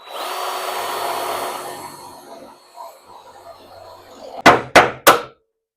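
A drill bores out spot welds on the cowl panel of a 1979 Plymouth Volare wagon, a whirring grind that fades away, followed after a pause by three sharp, loud metallic strikes in quick succession.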